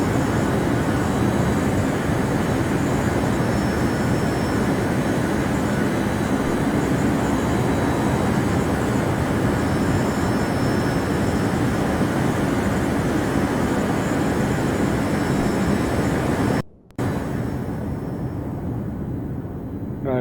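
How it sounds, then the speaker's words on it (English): FA-181 jet engine in the video game Arma 3, a continuous loud roaring drone that holds steady for a long stretch, briefly cuts out near the end, then resumes more thinly. No voices. "jet sound is way louder when going into the map or into Zeus, but yeah, another Arma 3 bug"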